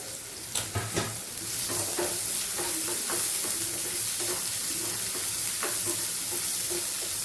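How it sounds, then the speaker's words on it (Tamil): Onions sautéed in a pan until golden, a continuous moderate sizzle with intermittent stirring scrapes and taps, no talking. "இனிமேல் வெங்காயத்தை போட்டு நல்லா பொன்னிறமாக வதக்கணும்"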